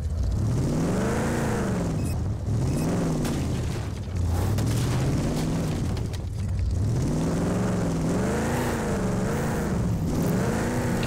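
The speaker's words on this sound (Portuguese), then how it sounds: "Subindo a montanha de carro." In RAGE 2, a car climbs a mountain road, its engine loud and close, rising and falling in repeated revving surges with heavy rumbling throughout.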